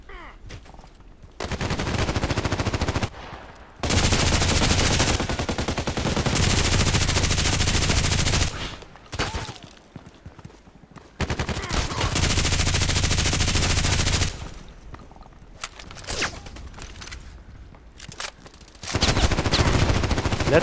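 RPKT light machine gun firing in the video game Contract Wars, loud sustained automatic bursts several seconds long with short pauses between them.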